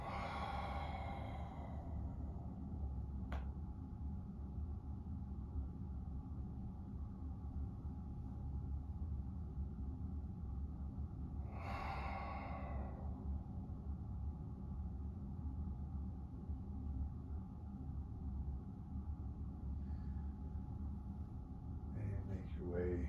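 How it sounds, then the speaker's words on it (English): Big slow exhale during yoga breathing in a warrior yoga bootcamp session: a long, breathy rush of air near the start, then a second softer exhale midway over steady background hiss. "Big exhale."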